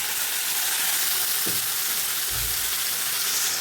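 Onion and tomato sizzling in hot oil in a kadai, a steady loud frying hiss throughout with a couple of soft low thumps as the pan is stirred.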